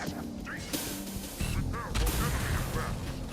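Gunfire in the Halo video game comes as a few short, loud bursts over a busy game soundscape. Voices can be heard in the background.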